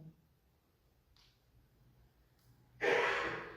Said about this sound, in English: Just breathing now.